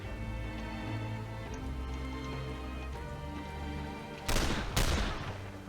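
Two sharp gunshots ring out back to back in the turn-based game The Lamplighters League, loud against a steady low musical bed, with no talking.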